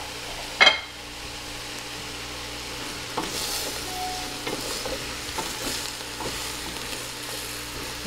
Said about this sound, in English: we want to try to brown up the beef, so we're going to cook this until we see the beef is nice and browned